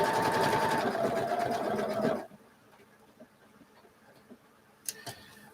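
A sewing machine stitches through fabric in a fast, steady, close mechanical chatter for about two seconds, then stops, leaving quiet handling noises and a couple of faint clicks.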